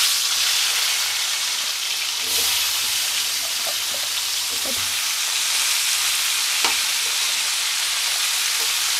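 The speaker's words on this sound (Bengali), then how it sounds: "করলা আর আলুটা ভালো করে ফ্রাই করে নেব" Bitter gourd and potato pieces fry in hot oil in a wok, giving a steady, close sizzle throughout, with a few soft stirring clicks and scrapes rising briefly above it.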